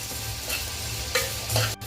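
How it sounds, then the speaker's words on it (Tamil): Fennel seeds, cumin and black pepper dry-roasting in a pan, a short close crackle with a few scraping stirs of the spatula. "சோம்பு, சீரகம், மிளகு நம்ம எடுத்து வச்ச மசாலாங்க எல்லாமே"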